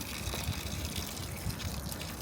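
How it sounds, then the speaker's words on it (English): Water flowing steadily from a VEVOR WiFi sprinkler timer, a continuous close gushing and hissing stream with a low rumble, alone at a constant level. "Pretty simple water flow, if you guys can see it."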